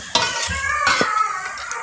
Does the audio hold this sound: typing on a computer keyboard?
no